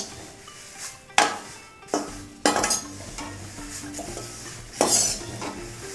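Drumstick leaves roast in a pan over low heat, with a faint dry sizzle beneath several sharp metallic scrapes and clinks of a spatula stirring against the pan.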